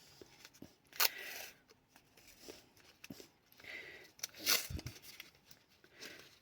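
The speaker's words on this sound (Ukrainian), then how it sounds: "Зараз ми її обмотаємо скотчем малярним" Masking tape is pulled and wrapped around a paper-mache piggy bank, with sharp ripping and crinkling bursts over soft rustling, while a person talks quietly nearby.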